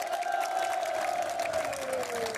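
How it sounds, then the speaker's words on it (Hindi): Outdoor crowd at a youth election rally gives a brief burst of cheering and applause, fairly faint and distant, with a sustained whistle-like tone running through it. "तो आप लोग के लिए जोर से तालियां हो जाए।"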